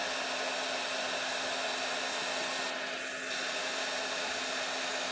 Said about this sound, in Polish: Z suszarką do włosów.